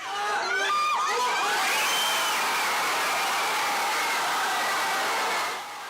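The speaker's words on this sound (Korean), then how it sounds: "주점을 가득 메운 손님들도 모두 일어나 함성을 터뜨립니다" A packed pub crowd in Chungbuk erupts after Cho Gue-sung's headed goal in a World Cup match, a loud sustained roar of shouting and cheering with shrill whoops near the start, holding steady before easing off at the end.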